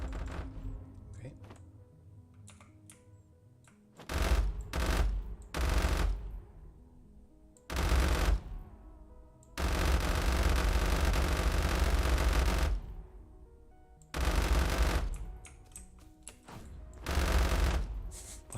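Bursts of automatic machine-gun fire in a video game under development, loud sustained volleys of several seconds alternating with shorter rapid bursts and quiet gaps.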